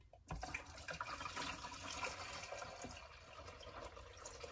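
Water poured steadily into a coffee pot, a continuous splashing, gurgling stream that starts after a brief quiet moment and runs fairly loud and close for several seconds with no talk.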